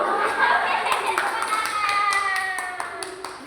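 Several people clap hands together in a quick rhythmic pattern, with children's voices chanting along throughout.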